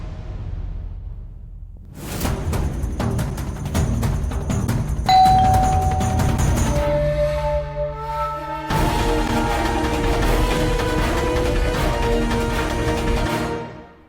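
A house doorbell rings in a few descending chime tones midway through, set against a loud, dramatic television-drama music score that plays throughout.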